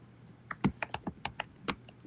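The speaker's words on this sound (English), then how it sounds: "He's typing" Typing on a computer keyboard during a podcast: about ten quick, uneven key clicks and clacks, close and fairly crisp, with no one speaking.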